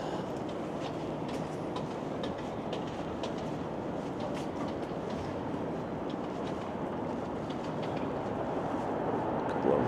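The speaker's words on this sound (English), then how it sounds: "I think the subway just started running" A subway train on the Yonge Street line in downtown Toronto runs in the early hours of a December night, a faint, steady rumble with soft rhythmic rail clatter.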